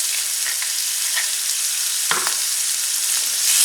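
Sliced peppers crackle in an oiled skillet as a steady, close hiss, broken once by a single clank of a utensil against the pan.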